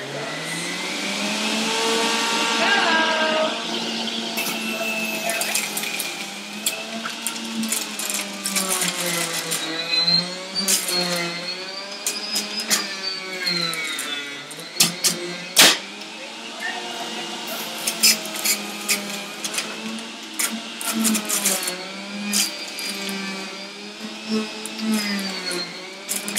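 An electric juicer motor runs continuously while trimmed apples are fed through it: a loud, sustained mechanical whine whose pitch dips and recovers as each piece is pressed, with brief sharp knocks over about 26 seconds.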